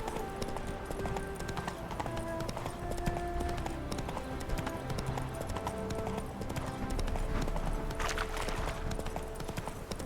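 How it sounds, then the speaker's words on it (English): A horse trots in The Witcher 3, its hooves clip-clopping in a steady, continuous rhythm throughout, close and fairly loud, without talk. "Come on, Roach, don't just stop because of a rabbit or something"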